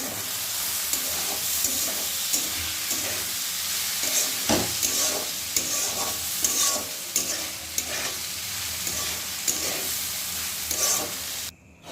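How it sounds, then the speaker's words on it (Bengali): Lentils (dal) for khichdi fry in a pan with a steady close sizzle and frequent stirring scrapes, ending abruptly, with no speech. "একসঙ্গে আমি ডালটাকে ভেজে নেব।"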